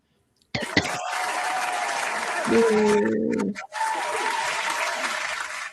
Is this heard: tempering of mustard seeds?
no